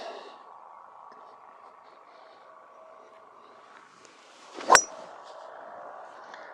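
A single sharp metallic clang as a 2000 Mizuno T-Zoid forged titanium driver strikes a golf ball slightly off the sweet spot, loud and close over a quiet, steady background hum.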